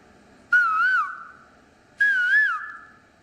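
A human voice imitates the call of an Asian koel with two clear, rising, whistled notes, each a wavering tone that slides down and fades, separated by a short pause.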